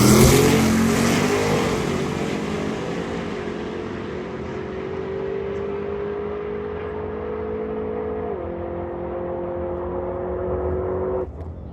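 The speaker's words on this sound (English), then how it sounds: "the all-wheel drive Diamond T, dude, this thing's gonna be nuts" An all-wheel drive Diamond T in a racing video game revs loudly, its engine note climbing steadily as it pulls. A brief dip and shift comes near the end before the sound cuts off abruptly.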